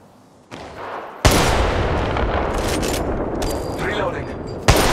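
Loud, sustained gunfire in the mobile shooter Apex Legends Mobile, a dense continuous barrage of rapid shots with sharp onsets that starts abruptly and runs to the end.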